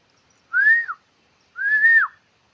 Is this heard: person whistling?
yes